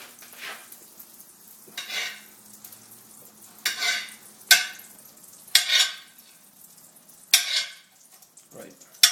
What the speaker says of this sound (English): let's make sure the butter's going good here in the pan